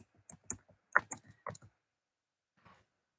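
Quick bursts of key clicks on a computer keyboard, a short irregular run of taps and clatters close up, then a pause and one faint final click.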